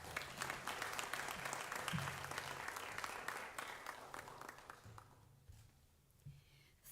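Audience applause at an international youth forum on SDGs and human rights, sustained clapping from a crowd that thins and fades toward the end, fairly faint and distant.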